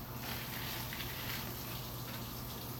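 A sink tap runs water in a resident care room, giving a faint, even hiss that holds steady throughout without pauses.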